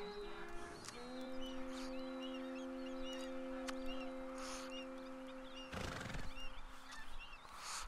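A horse in the video game Red Dead Redemption 2 whinnies over a steady hum of background tones, with faint bird chirps scattered throughout and a brief noisy burst near the end.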